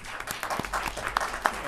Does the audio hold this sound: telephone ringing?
no